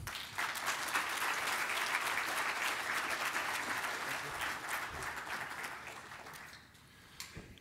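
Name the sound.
audience applause welcoming speaker Elvis Grbac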